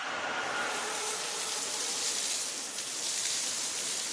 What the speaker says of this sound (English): Wet the ground with water.